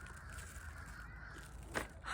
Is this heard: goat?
no